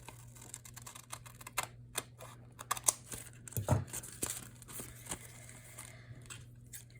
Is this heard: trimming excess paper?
yes